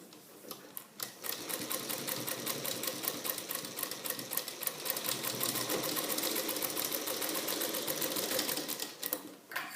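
Sewing machine stitching the seam of a kurta neck opening and placket, a fast rapid clatter that runs steadily for several seconds after a brief start, close and fairly quiet.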